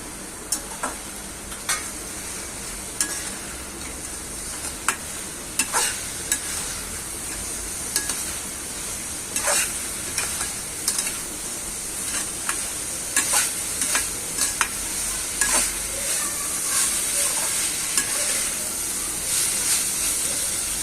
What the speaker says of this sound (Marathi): आता हे आपण कोलबी फ्राय केले ती घालूया